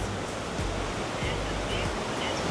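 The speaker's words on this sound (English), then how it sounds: "Look at these waves here, boy. These waves are big." Big ocean waves seen from a cruise ship at sea, producing a steady, loud rushing roar of surf and wind that fills the whole moment without pause.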